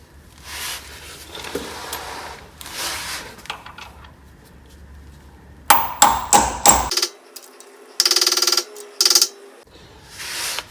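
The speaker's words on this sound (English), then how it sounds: "you could put a piece of wood in front of it and just hammer it on this end over here until it gets in there" Hammer blows drive a part through a block of wood during an automatic-to-manual gearbox swap on a Nissan Silvia S15 Spec-R; a quick run of sharp, close strikes is followed by a few heavier, spaced knocks, with no talking.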